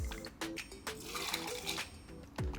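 Reposado tequila poured into a jigger or glass for a pineapple margarita, a short liquid stream with small clinks and trickles, close and quiet, no voices.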